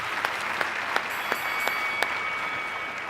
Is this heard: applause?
yes